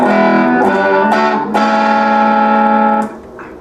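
Clean electric guitar chords struck one after another, each ringing out bright and sustained before the last one fades away.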